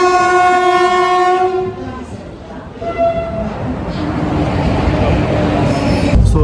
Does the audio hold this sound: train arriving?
yes